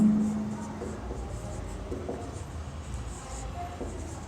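Chalk or a marker scratches and taps on a board during a math lecture on linear equations, short strokes spread across a quiet, roomy background with a brief low hum at the start.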